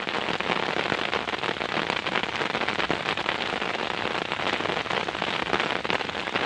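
Heavy rain pours steadily at a natural outdoor fishing spot, a dense, loud, continuous patter of drops striking surfaces with no pauses and no voices.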